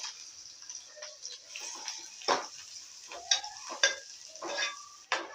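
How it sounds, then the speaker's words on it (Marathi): Curry leaves and chopped onion frying in oil give off a light, crackly sizzle at close range, with irregular spattering pops and a few louder bursts and clinks of a spoon, fairly quiet overall and without speech. "त्यामध्ये आपण तेल टाकून घेऊ आता ह्यामध्ये मी कढीपत्ता टाकते एक चिरलेला कांदा"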